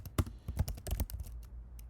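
Quick bursts of key clicks on a computer keyboard, about a dozen uneven taps over two seconds, close and fairly faint, with the typing trailing off near the end.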